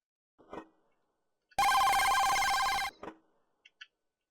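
A telephone bell rings in one continuous loud burst of just over a second, with short faint sounds just before and after it in an otherwise quiet room.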